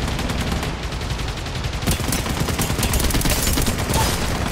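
A Havoc rifle firing in Apex Legends Mobile, a dense unbroken stream of rapid automatic shots, loud and close throughout.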